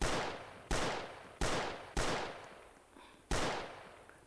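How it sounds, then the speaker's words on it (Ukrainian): Mauser pistol shots fired in the Roblox game Dead Rails: five sharp, loud reports with long decaying tails, spaced roughly half a second to a second apart, with no voices over them. "Зараз їх треба бахнути з маузера"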